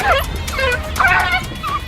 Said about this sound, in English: The noise of the young wild dogs attracted the attention of a coalition of male